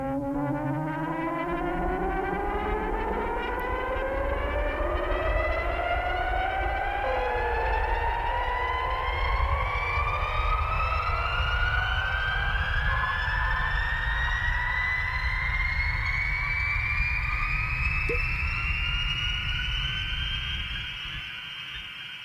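Synthesized sound built in Ableton, blending a racing-car engine whine with a rising-tension effect: a loud, continuous tone whose many overtones sweep steadily upward for about twenty seconds without pause, alone with no voices.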